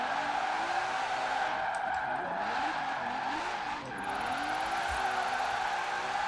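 A fast car in Forza Horizon 4 drifts with a long, continuous tire squeal over a steady engine drone, the pitch of the skid wavering as it slides through corners.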